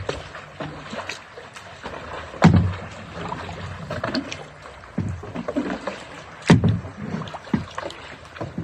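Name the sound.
kayak being paddled on water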